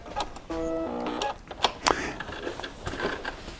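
A sewing machine's automatic thread cutter whirring briefly with a tonal motor buzz, followed by a few soft mechanical clicks and taps nearby.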